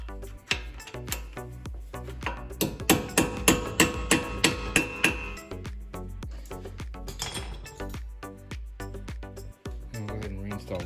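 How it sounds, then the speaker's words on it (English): A hammer tapping a pin into a ball joint on a Mustang GT500, a rapid series of sharp metallic taps in bursts, close and loud, with ringing clinks between strikes. "we'll go ahead and tap the first pin in without the spring"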